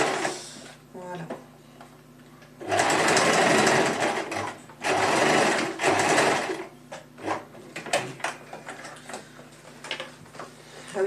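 A sewing machine stitches fabric for a cosplay bustier in two loud bursts of rapid whirring, separated and followed by quieter clicks and handling noises, with a person speaking in between.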